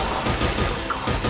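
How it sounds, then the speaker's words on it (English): A short, loud burst of dense gunfire in the video game Mass Effect 3, a rough rattling volley filling the whole moment. "Somebody else is shooting at me."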